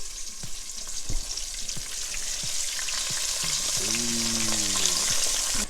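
Flour-dredged chicken frying in a pan for Nashville hot chicken, a steady close sizzle with scattered pops and crackles, and a faint tonal hum rising partway through.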